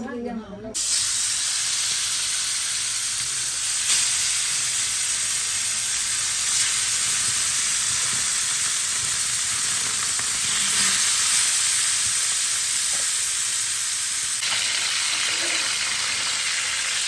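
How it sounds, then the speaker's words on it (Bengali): Freshly caught pond fish fry in a pan with a loud, continuous hissing sizzle that holds steady for about seventeen seconds. "এই মাছ এখন ভাজবে একদম ফ্রেশ।"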